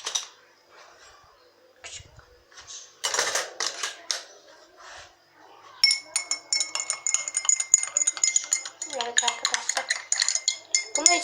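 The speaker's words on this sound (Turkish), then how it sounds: "Çatalla karıştırıyorum niyeyse." A fork stirs salt water, clinking and scraping against its container in irregular bursts that grow denser and busier toward the end.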